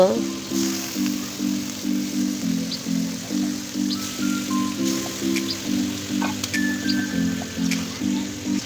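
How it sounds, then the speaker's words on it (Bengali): Boal fish pieces dropped into hot cooked-down masala, a loud steady sizzle and crackle close by, with a rhythmic pulsing hum running underneath. "এখন আমি এই যে বল মাছগুলো দিয়ে দিব এক একে সব বোয়াল মাছগুলোই আমি দিয়ে দিব"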